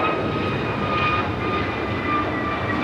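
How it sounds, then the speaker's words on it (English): An American Airlines A321neo jet takes off from LAX, its engines a loud, close, continuous roar with steady tonal whine layered on top, sustained without voices for a few seconds. "This is American Airlines 591 taking off to Washington Reagan National on the A321neo."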